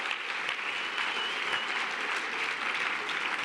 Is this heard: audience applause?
yes